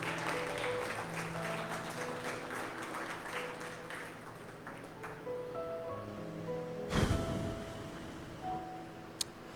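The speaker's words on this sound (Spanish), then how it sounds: "¿Cuántos le pueden dar palmas al Rey?" Congregation clapping during a church service, a steady wash of applause from many hands filling the room, with a louder burst near the end.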